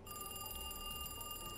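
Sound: telephone ringing in a video game

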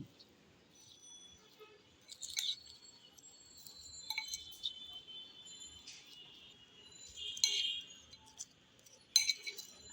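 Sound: spoon mixing spicy shrimp marinade in a bowl

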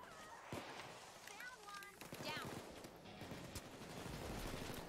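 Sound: gunfire in the video game Payday 2

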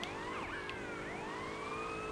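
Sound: police car siren in GTA Liberty City Stories video game

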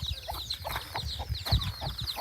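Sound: chickens clucking

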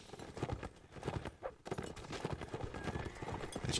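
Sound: horses galloping in video game Mount and Blade Warband

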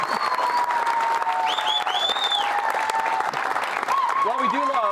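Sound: live audience applauding

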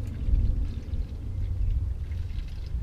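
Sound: pouring red snow foam liquid into a jug

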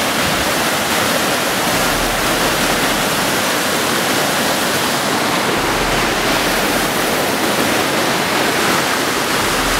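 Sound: waterfall

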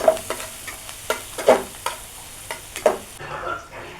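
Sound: bottle gourd peel being fried

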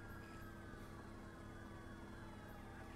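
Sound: fire engine siren in video game Driver San Francisco

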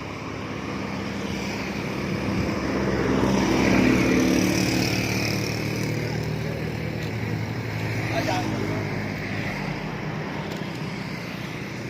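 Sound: motorboat heading out to the Gulf of Thailand

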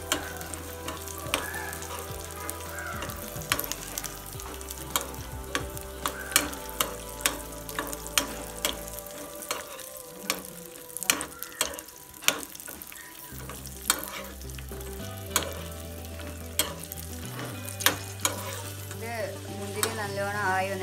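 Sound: frying raisins for semiya payasam

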